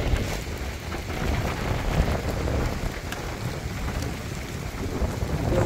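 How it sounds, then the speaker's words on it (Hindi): Rain pours steadily in a storm with gusting wind, a dense continuous hiss with low rumbling swells that suggest distant thunder, close and unbroken, with no voices. "ऐसे तूफान में तो बड़ा डर लगता है"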